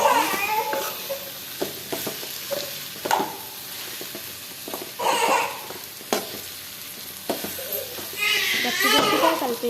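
Cooked bitter gourd pieces gently stirred into a curry in a pan, a soft intermittent scraping and mild sizzle with children's voices and laughter in the background.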